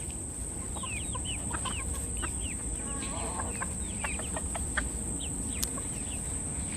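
Frizzle chickens, including a silkie-Frizzle mix hen, cluck softly in a steady scatter of short calls over constant outdoor background noise, close by with no talk.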